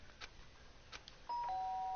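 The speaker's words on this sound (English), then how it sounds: "Ding dong!" A doorbell in Danganronpa: Trigger Happy Havoc chimes once, a clean two-tone electronic ding-dong entering abruptly after faint background clicks and holding steady and fairly loud to the end.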